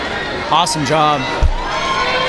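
Crowd cheering and whooping at a World Ninja League elite men's Stage 1 competition, an excited roar with a loud shout, under a commentator's voice.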